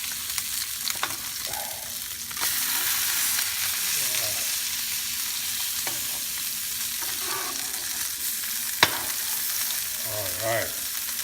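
Salmon fillet searing in a hot pan for lemon butter salmon, a steady loud sizzle running throughout with occasional clinks and a sharp tap of a utensil, brief murmurs of voice over it.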